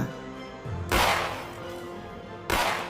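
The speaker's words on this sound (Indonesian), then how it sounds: "mengusirnya dengan cara melepaskan 2 tembakan ke arah anjing itu" Two loud gunshots, a second or so apart, each bursting out and fading over a low background rumble.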